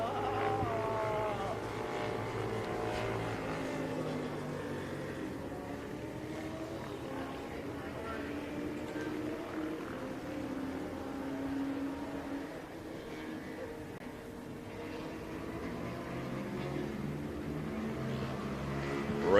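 Super Motard racing motorcycles run a road course at an AHRMA national roadrace, a continuous engine drone with shifting pitch as bikes pass at a distance, under steady commentary.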